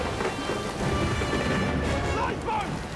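Heavy rain pours with deep rumbling thunder in a dense, continuous storm, with faint voices mixed in.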